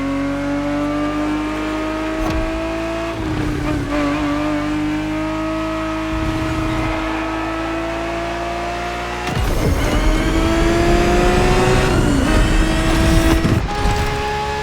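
A 1970s Ferrari 365 GTB4 races in The Crew Motorfest, its engine a loud, close, steady roar that climbs in pitch and drops back at several gear shifts, with one sharp surge about two-thirds through.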